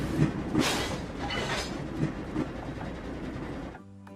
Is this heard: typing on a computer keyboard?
no